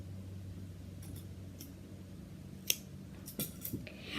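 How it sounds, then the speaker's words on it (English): Scissors snip off the yarn end strings of a finger-knitted bracelet: a few quiet, close, sharp cuts near the end over a faint steady hum. "you can cut off the end strings"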